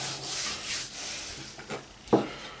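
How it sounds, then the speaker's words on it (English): Hands rub spice rub into a raw brisket before it goes on a Pit Boss Lexington smoker, a soft close scuffing and smearing that swells in a few strokes and ends in a sharper slap of meat. "Rub it in, old school style."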